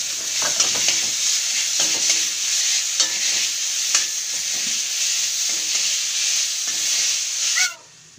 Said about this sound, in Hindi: तो थोड़ा सा जस्ट लिटिल फ्राई किया है